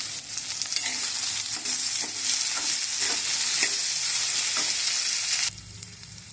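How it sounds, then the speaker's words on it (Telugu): Eggplant, pumpkin and raw mango pulusu stirred in a pan, with a steady loud sizzle and scraping spoon strokes for about five seconds before the sound drops abruptly to a quieter hiss. "కొంచెం కలిపేసి"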